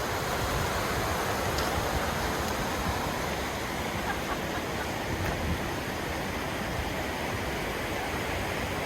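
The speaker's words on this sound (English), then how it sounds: "We're by Multnomah Falls in Oregon, and this is just one of the many stop-off points" Steady broadband roar of Multnomah Falls, a waterfall in Oregon, heard from a viewing stop as a constant, full rush of falling water with no talking.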